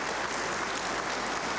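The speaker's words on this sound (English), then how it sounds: "Round of applause for Colin." A studio audience gives a short, steady round of applause, a brief wash of even clapping heard at moderate distance with no talking.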